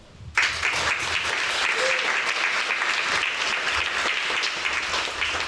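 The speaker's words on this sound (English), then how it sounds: "Please give her a round of applause." Audience applause at a mental health festival event, a dense burst of clapping that starts abruptly and holds steady and strong throughout.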